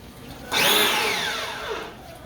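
A Tolsen 1400W high pressure washer starts up and runs with a rising whine and a steady spray, close and moderately loud, and the motor pitch sweeps downward as it settles.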